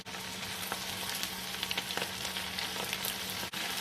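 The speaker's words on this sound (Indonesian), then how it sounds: "Sementara membuat minyak bawangnya, bisa kita menggoreng ayam." Chicken sizzles and crackles in hot oil over high heat, a steady close-up frying hiss with small pops throughout and no voices.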